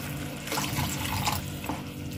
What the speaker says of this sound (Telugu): ఇవి మిక్స్ చేసుకున్న తర్వాత ఒక 1/2 కప్పు వాటర్ వేసుకోవాలి